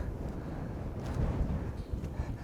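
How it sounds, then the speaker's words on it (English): Wind on a windy day gusts across the microphone outdoors, a low rumbling buffet that swells and eases without a break and carries no voices. "today being a windy day, this is excellent because it's making my flag blow around quite a bit"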